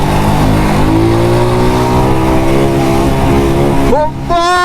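A motorcycle engine revs hard and climbs steadily in pitch as the rider accelerates to overtake in traffic. The engine is loud and close, and a gear change near the end drops the pitch briefly before it rises again.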